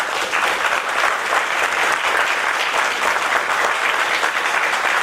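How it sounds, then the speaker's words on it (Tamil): Audience at a film press event applauding, a dense, sustained burst of clapping from a large crowd that holds steady throughout, heard alone without talk. "இந்த கரகோஷத்தை விட பெரிய சம்பளம் நீங்க கொடுத்துட முடியாது."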